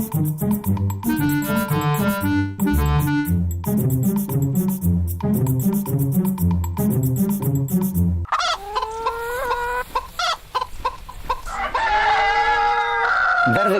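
Hens being fed cluck and squawk busily in a farmyard at Castiello de la Marina, a dense and continuous chatter of many birds close by, with a rooster-like crow among them.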